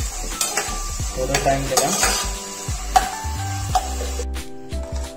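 Food is stirred and roasted in a pan while cooking a chicken recipe, with repeated scraping and clinking of a utensil against the pan over a steady sizzle, and a brief spoken remark.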